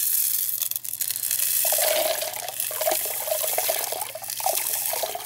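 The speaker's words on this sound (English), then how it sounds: "I'm just starting with some water, adding some of this broken glass." Water and shards of broken glass poured into a Nutribullet blender bowl, a steady close splashing and trickling stream with faint clinks, running throughout without speech.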